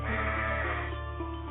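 Sheep bleat steadily in an animated Bible tale of Abel the shepherd's flock, a sustained wavering bleat running the whole stretch over a low continuous drone, loud and close with no talk.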